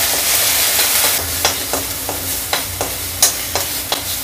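Ginger-garlic paste sautés in a pan for mushroom fried rice, a loud continuous sizzle broken by regular spatula scrapes and taps as it is stirred, close up and without talk.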